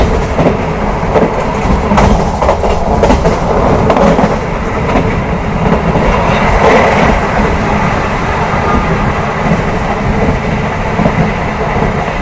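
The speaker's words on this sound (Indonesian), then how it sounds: "kereta api Argo Sindoro baru saja melintas langsung di stasiun Pemalang menyusul kereta api Menoreh" Argo Sindoro passenger train running straight through Pemalang station without stopping, a loud, continuous rumble of wheels and carriages rolling past close by with steady rail clatter throughout.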